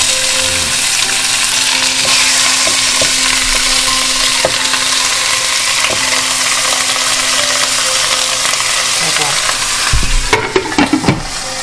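Freshly caught mahi-mahi pan-frying in a hot pan, a steady, loud sizzle and crackle filling the whole stretch, with a few clatters of utensils near the end.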